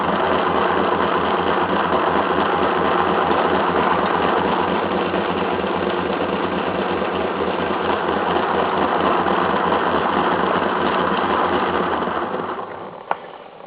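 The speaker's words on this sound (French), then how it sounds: "le moteur saute, donc il n'est pas assez calé." A small engine runs steadily and close for a long stretch, with a rough, slightly uneven, skipping idle from poor timing, then winds down near the end.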